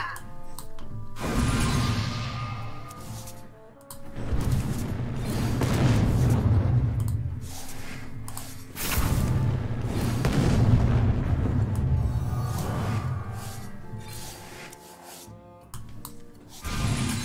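Loud explosions in a video game mission, several heavy booming blasts with rumbling tails arriving in waves over a sustained roar of fire, close and dominant.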